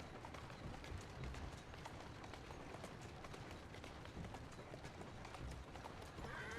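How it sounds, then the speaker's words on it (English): Horse hooves gallop in a steady, continuous clip-clop rhythm through Assassin's Creed Syndicate, loud and close throughout with a busy mechanical background and no speech. "Who's a good horse? You are."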